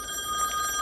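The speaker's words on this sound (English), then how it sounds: "Oh, phone's ringing." An in-game telephone rings continuously in the video game The Wolf Among Us, a loud, steady bell-like trill heard alone without any voices.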